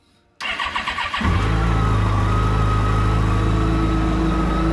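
A neglected Yamaha FJR1300 motorcycle cranks on its starter for under a second, then catches and settles into a loud, steady idle that continues to the end, with no voices.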